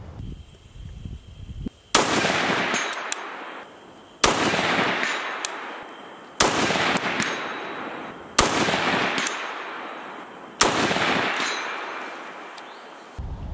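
Mark 112 Mod 1 short-barreled rifle fired in five loud, sharp single shots spaced about two seconds apart, each with a ringing decay, no talk.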